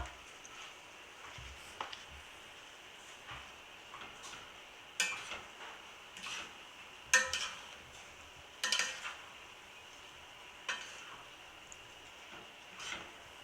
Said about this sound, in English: Stir it from the bottom of the pot to ensure that it's not sticking.